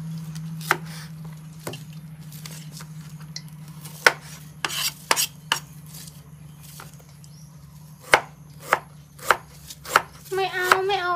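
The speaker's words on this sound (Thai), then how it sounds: "หั่นนี่มันต้องแข็งใช่ไห" A knife slices through fresh bamboo shoots on a cutting surface outdoors, giving crisp, irregular chopping clicks that quicken into a steady rhythm, over a constant low hum with a brief voice at the end.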